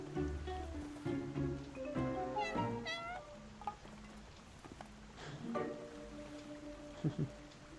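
A cat in the video game Heartopia meows several times, clear and close, with rising and falling calls between stretches of soft ambient game sound and music.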